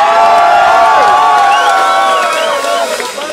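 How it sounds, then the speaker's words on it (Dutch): A crowd at an award event cheers, whoops and applauds for Paulus. The loud, dense noise holds steady, then slowly thins toward the end, with excited shouting voices mixed in. "geef lekker die gasten een big applaus voor Paulus"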